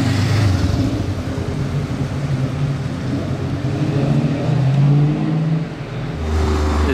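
Chevrolet car accelerating down a street in Monaco, a loud steady engine roar holding throughout, with a rising note near the end as it pulls away, no talking.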